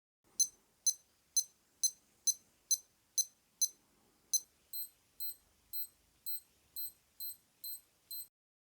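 A Casio F-91W digital watch alarm and a cloned copy beep in turn: eight loud, sharp, evenly spaced electronic beeps, then a second series of eight quieter beeps at the same steady rhythm.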